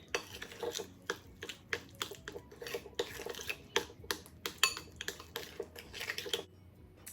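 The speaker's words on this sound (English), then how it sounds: "Give this a stir until it's well incorporated." A spoon stirs pure vanilla extract and sweet potato puree into butter in a bowl, giving a string of quick clinks and scrapes against the dish at an uneven rhythm, close and fairly quiet.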